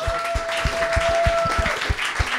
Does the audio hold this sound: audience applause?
yes